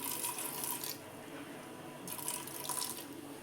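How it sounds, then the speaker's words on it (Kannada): Water is poured into sprouted green gram cooking in a pressure cooker, making a faint, steady trickling and splashing that swells in two soft bursts. "ನೀರು ಹಾಕ್ತಾಯಿದ್ದೀನಿ"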